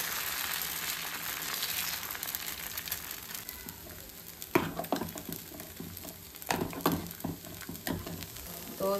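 A dosa fries on a hot pan in a home kitchen, giving a faint, steady sizzle broken by a few sharp scraping and tapping sounds near the pan, with no talk.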